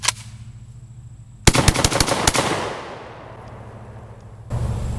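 A JTS M12AK shotgun fires old low-brass 7.5 shells in a rapid string, with one early shot and then a fast burst of about six loud, close blasts fading into outdoor echo, followed by a faint rustle.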